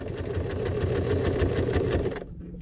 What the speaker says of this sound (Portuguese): E vou costurar. Mesma coisa. A costurinha vai passar sobre a outra costura.